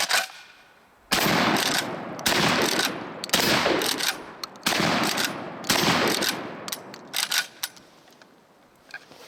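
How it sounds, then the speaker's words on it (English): A TR Imports XP15 pump-action 12 gauge shotgun loaded with high brass ammo is fired from the hip, five loud, sharp blasts spaced about a second apart, each ringing out briefly, followed by fainter mechanical clicks and handling noise. "A little bit of hip fire."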